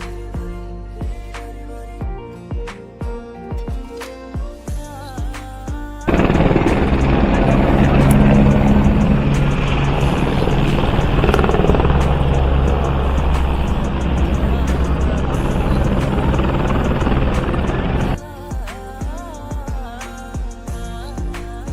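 A helicopter thunders close by at Kedarnath for about twelve seconds, a loud steady rotor and engine roar that starts abruptly and cuts off, with quieter background sounds on either side.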